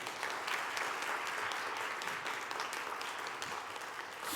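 Church congregation applauding at a Friday evening Holy Spirit service, a dense, even wash of clapping from many hands filling the room, moderately distant and sustained without voices.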